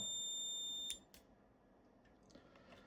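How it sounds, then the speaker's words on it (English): A sustained high electronic SWR alarm beep from a power and SWR meter holds for about a second, then cuts off, followed by faint clicks and low background hiss. "So the beep stays till we press the button"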